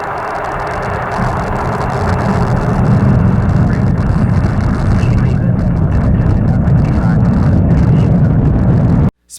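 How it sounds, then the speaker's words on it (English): A Falcon rocket lifts off carrying the Deep Space Climate Observatory, heard as a broad, sustained roar that swells and holds loud before cutting off abruptly at the end. "The Falcon takes flight, propelling the Deep Space Climate Observatory on a million-mile journey"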